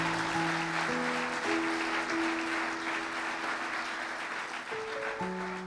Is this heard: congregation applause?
yes